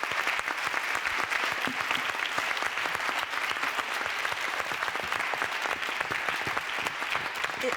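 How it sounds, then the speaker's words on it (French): An audience applauds panelists at a conference on gender diversity and governance, producing dense, sustained clapping that holds steady at moderate loudness for the whole stretch with no talk over it. "je pense qu'on peut applaudir nos panélistes"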